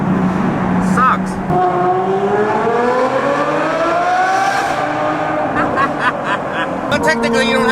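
A V12 car engine revs in a tunnel with rising and falling wails and sharp downshift blips, loud and echoing, while someone talks over it throughout.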